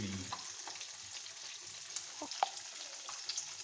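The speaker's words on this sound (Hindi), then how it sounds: "5 से 7 मिनट हमने इसको फ्राई करना है और ये फिश रेडी हो जाती है" Fish fries in oil in a frying pan, a soft continuous sizzle with scattered small pops and crackles, fairly close and quiet, with no talking.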